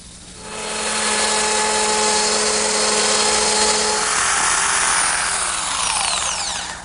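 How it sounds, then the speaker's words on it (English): A router with a straight cutting bit and a guide collar riding a jig cuts one side of a wooden tongue. The high, steady motor whine holds for several seconds after a quick spin-up, then shifts pitch near the end. "using my router with a straight cutting bit and this collar, which rides against the edge of the jig, I'm able to form one side of the tongue"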